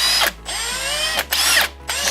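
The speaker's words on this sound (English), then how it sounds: "So now I just gotta drill a hole through the side of it, and we'll have ourselves a banjo bolt." A power drill boring a hole through the side of a steel bolt to make a banjo bolt for a 150cc motor conversion, loud whining bursts that stop briefly and restart, close up and with no talking.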